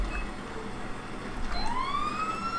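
Police siren from an LSPDFR-modded police car in GTA V starts up midway and rises in a sweeping wail over steady engine and traffic-like background noise, with no talk.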